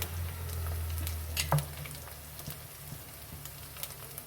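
Ginger garlic paste hits hot oil with a soft, close crackle and sizzle over a low hum, with a brief spoon clatter and scattered pops after.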